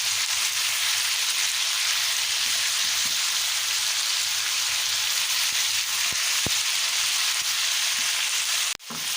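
Mutton with ginger garlic paste frying in a karahi for shinwari karahi, a loud, continuous oily sizzle with a few faint stirring clinks and a sharp knock near the end, no talk.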